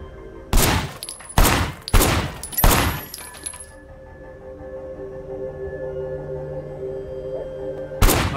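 Gunfire in the Sleeping Dogs Definitive Edition game: four sharp, loud shots in quick succession, then a lull with low background hum before one more close shot at the end.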